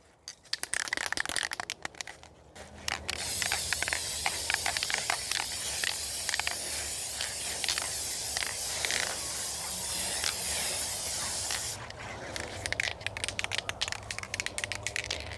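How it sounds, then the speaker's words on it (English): A can of Kamar spray varnish sprays paintings in an indoor studio in a long continuous hiss, starting after a few brief rattling bursts and stopping abruptly near the end, followed by light handling noises. "I want to make sure the spray application is uniform"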